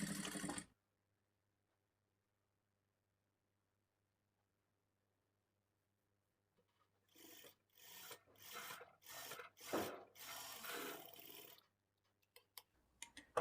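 A sewing machine stitches a blouse lining in short rhythmic runs after a long silence, the whirring bursts starting and stopping several times, close and fairly quiet.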